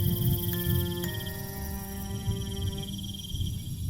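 Leaf-mimicking crickets in the Amazon rainforest keep up a continuous high, buzzing trill, moderately loud and close, holding steady and then fading slightly toward the end.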